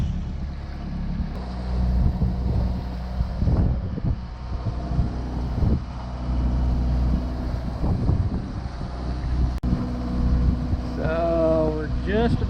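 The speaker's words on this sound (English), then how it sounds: "Wind's out of the west, and as usual, we're motoring into it." Steady low drone of a sailboat's engine motoring into a west wind on Lake Michigan, with wind buffeting the microphone and brief voices and a whistling tone near the end.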